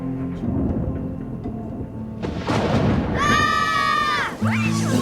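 Thunder rumbling low and heavy through a busy mix of game sounds, a deep roll building midway and continuing beneath bright chiming tones.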